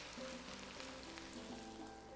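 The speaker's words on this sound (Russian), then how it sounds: "Все, и тоже жарим до готовности." Potato rösti, Swiss-style crispy fried potato, sizzles steadily in a frying pan with an even, continuous crackle throughout and no voices.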